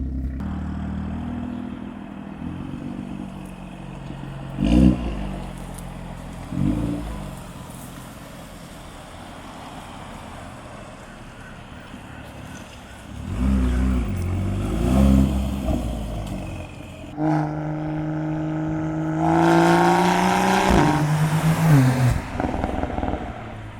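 Car fitted with a new aftermarket exhaust, idling with a few sharp blips, then revving hard and pulling away, engine note rising and fading as it drives off, loud and close with no talk.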